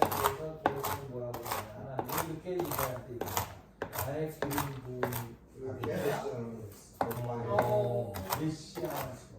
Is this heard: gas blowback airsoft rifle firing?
no